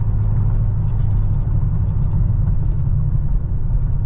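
A Dodge Charger R/T with a 5.7L V8 engine drones from inside the cabin at a steady, loud, low rumble without clear rev changes or shifts, with no voices.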